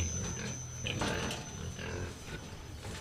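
Low, rough pig grunts from a creature in a horror video game, rumbling through a dense, noisy game soundscape with a few sharper bursts, loud and close.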